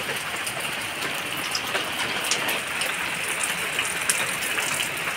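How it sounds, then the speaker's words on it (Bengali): Steady evening rain falls outside a home kitchen, a continuous broadband hiss with scattered drop ticks, even and fairly close throughout, with no talking. "রান্না করতে করতে দেখেন সন্ধ্যাটা বৃষ্টি এসে গেছে"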